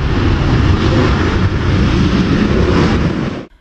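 A passenger airplane landing at Bujumbura international airport, its engines roaring loud and steady at close range before the noise suddenly cuts off.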